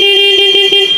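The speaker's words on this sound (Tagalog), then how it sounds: "Malakas po yung busina." Horn of a Sym Jet X 150 scooter blaring loud and close, a steady sustained tone held for the full second with no talk over it.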